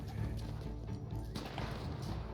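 Horse hooves clopping in a video game, a steady run of hoofbeats close up and fairly loud over a busy game backdrop, with a possible short whinny and no talk.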